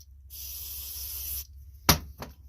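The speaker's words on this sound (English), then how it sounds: "You want to spray really good" Carburetor cleaner hisses from an aerosol can in a steady burst of just over a second onto a garden tiller attachment's carburetor, followed by two short sharp clicks or taps.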